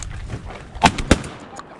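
Two sharp shotgun blasts ring out in quick succession while duck hunting for mallards on open public-land water, each a loud, abrupt crack with a brief tail.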